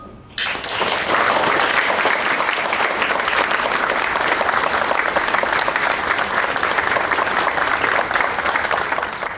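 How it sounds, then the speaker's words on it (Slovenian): Sustained applause from a large audience at a presidential visit in Nova Gorica, a dense, even clatter of clapping that starts abruptly and carries steadily at full strength to the end. "jaz vas vse prosim, če lahko njim namenimo en aplavz."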